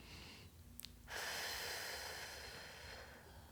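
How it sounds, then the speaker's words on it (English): A deep breath drawn in during a morning vinyasa yoga flow, a broad soft airy rush that swells after a brief quiet start and holds steady for a few seconds, close and fairly loud, with no talking. "Big breath in."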